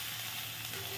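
Whole panch phoron spices sizzle in hot oil in a home kitchen pan for a Bengali vegetable fry, giving a steady, close hiss throughout with no talking.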